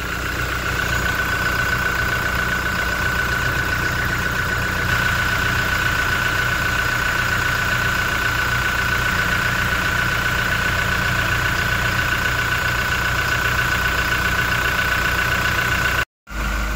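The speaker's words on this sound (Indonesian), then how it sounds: "Ini baru aja dihidupkan mesinnya." The diesel engine of a Toyota Innova Reborn idles just after starting, a steady close rumble with a constant whining tone and even low throb, continuing unchanged until a brief cut near the end.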